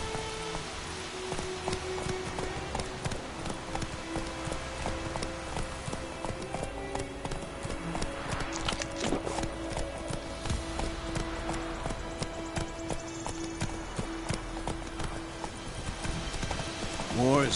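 Horse gallops in The Witcher 3 with rapid, rhythmic hoofbeats running through the whole stretch over a game soundscape with music-like tones, and voices talk over it.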